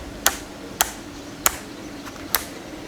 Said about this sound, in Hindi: टर्न करने के लिए ये एकदम से स्मूथ नहीं है, अलग अलग एंगल्स पे आप इसे होल्ड कर सकते हो। आप आवाज़ भी सुन सकते हो उसकी, खट खट करता है ये।